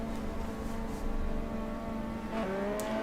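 A race car engine in a racing video game revs and holds high at the start of a race, a steady droning tone that shifts pitch near the end, with no talking.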